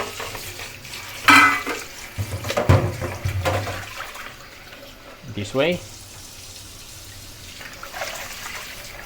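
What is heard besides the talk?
water poured into a container of beef for rinsing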